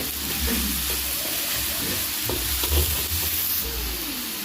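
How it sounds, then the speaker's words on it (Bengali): Egg and potato curry fries in a pan while being stirred after salt goes in. A close, steady sizzle runs throughout, with scraping stirs and soft knocks of the utensil against the pan. "লবণ দিয়ে ভালোভাবে নেড়ে চেড়ে নেব"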